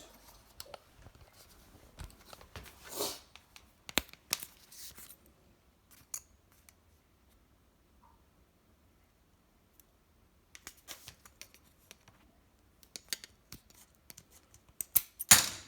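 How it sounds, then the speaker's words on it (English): Scissors cut through a door sweep in a few crisp, close snips, separated by long stretches of near silence. "so now I'm gonna cut it with"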